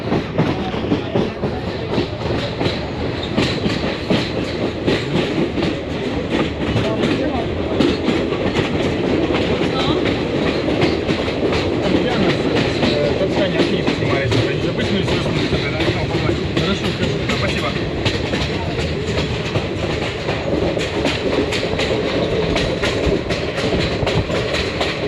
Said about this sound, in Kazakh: Пойызда келе жатыр.